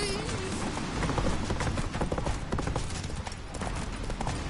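Roach, the horse in The Witcher 3, gallops in rapid clip-clop hoofbeats that run steadily and loud throughout, with dense game action and rain-like noise filling the background.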